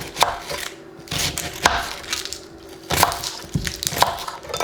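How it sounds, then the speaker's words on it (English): A white onion chopped with a knife on a cutting board, a series of sharp, close thuds in an uneven rhythm with short pauses between strokes. "So I don't have any more white onions, so I'm just gonna chop this up."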